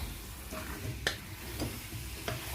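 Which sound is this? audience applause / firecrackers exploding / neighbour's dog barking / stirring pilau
stirring pilau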